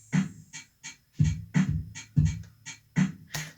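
A swung electronic drum beat of snare, clap and hi-hat plays alone, with punchy low hits and crisp ticks falling in an uneven, loping rhythm.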